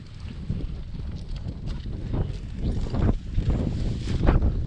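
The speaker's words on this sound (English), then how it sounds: "I'd rather sit on a rock than put up with the wind." Desert wind on a bighorn sheep range gusts loudly against the microphone, a steady low rumble that swells and buffets in stronger surges, with no voices.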